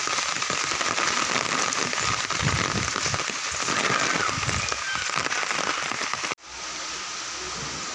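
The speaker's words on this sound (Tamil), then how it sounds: "ரொம்ப மழை வந்துட்டுருக்கு" Heavy rain pouring over a village, seen from a house rooftop, a loud dense continuous hiss with crackling drops that cuts off abruptly into a quieter, steadier wash near the end.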